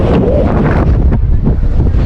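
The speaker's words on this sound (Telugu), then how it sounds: "చుట్టూ అల్లలు వస్తున్నాయి అటు సైడ్ అల్లలు వస్తున్నాయి" Wind buffets the microphone with a steady, loud roar at Dhanushkodi, where the sea surrounds the road on three sides, and waves wash against the shore beneath the gusts.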